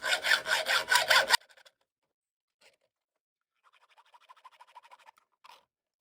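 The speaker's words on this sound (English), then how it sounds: "Normally I just cut this with the bandsaw, but I've got the wrong blade at the moment, but it won't take long with the hacksaw" Hacksaw cutting through the extra length of a wooden crochet hook blank, a loud, rhythmic burst of back-and-forth strokes lasting just over a second, then quiet with faint scattered scraping and handling noises.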